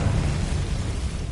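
A Bombarda spell explosion in Hogwarts Legacy gives a loud, sustained roaring burst that rumbles heavily in the low end and fills the whole short moment with no voices.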